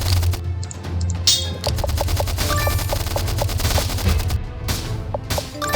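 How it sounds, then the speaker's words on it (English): Rapid machine-gun fire from a Stickman Trenches battle rattles on steadily and loudly, with bursts overlapping into a dense, continuous volley with scattered sharper shots throughout. "The machine guns can only kill so many"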